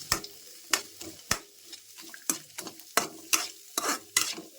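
Chopped garlic frying in hot oil in a pan while being stirred, with a soft sizzle under repeated sharp scraping strokes of a spoon against the pan, close up and with no talking.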